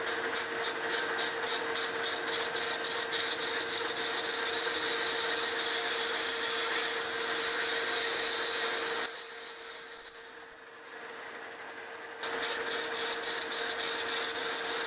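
A New Haven metal planer taking a cut across a casting, with a steady mechanical whine and a rapid ratcheting clatter that runs for several seconds, stops briefly, then starts again.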